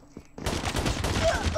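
Rapid automatic fire from the RUS-79U Dustkicker in Call of Duty Mobile bursts in after a brief quiet moment, a loud, close, continuous rattle of shots that runs to the end.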